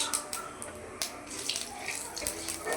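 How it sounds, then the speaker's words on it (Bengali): Cumin seeds, a cinnamon stick and a cardamom pod hit hot oil, giving a soft, continuous crackling sizzle with small pops, fairly quiet and close. "এবার ফোড়নে দিয়ে দিচ্ছি অল্প করে সাদা জিরে, আর একটা দারচিনি, একটা এলাচ"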